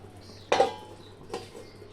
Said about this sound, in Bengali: এইবার আঁচ কমিয়ে আমি 2 মিনিট ঢেকে দেব।